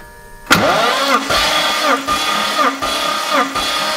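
A car engine cranks and catches with a sharp start, then settles into a rough, uneven idle with repeated revving pulses, close and loud, during a test of fuel and oil additives.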